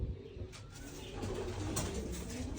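Pigeons coo softly nearby in a low, rounded, repeating call over faint background noise.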